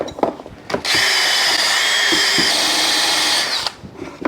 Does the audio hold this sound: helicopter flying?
no